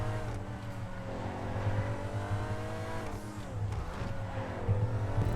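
A Vagner supercar in GTA 5 drives at speed, its engine droning steadily with pitch sweeping up and down as it shifts and revs, loud and close throughout with no talk.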